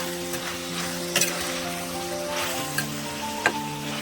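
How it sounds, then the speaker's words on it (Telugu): Eggplant masala curry being stirred in a pan, a soft steady sizzle with a few sharp spoon knocks against the pan, close and without talk. "ఒక్కసారి కూర కలబెట్టుకున్నామండి."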